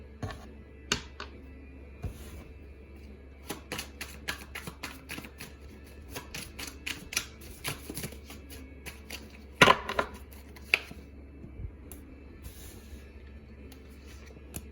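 Crisp riffling and snapping of tarot cards being shuffled, in repeated quick bursts with brief pauses, close up and fairly quiet, with no talking.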